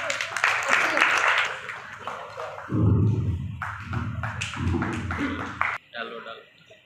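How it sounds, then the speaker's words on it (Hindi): Audience clapping at a Bharat Vikas Parishad community event, a burst of applause rising and falling in waves with taps and thuds, mixed with crowd chatter and voices throughout. "तालियां बजनी चाहिए।"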